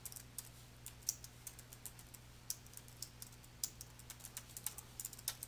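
Rapid, irregular clicks of keys being typed on a computer keyboard while entering text in photo-editing software, quiet and close with a steady low hum beneath.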